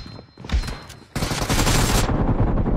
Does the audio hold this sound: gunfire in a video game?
yes